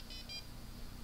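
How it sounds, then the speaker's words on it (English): Two short electronic beeps come from a mobile Wi-Fi hotspot powering up downstairs, faint and distant over a steady background hiss. "You can hear the powering up of the hotspot downstairs."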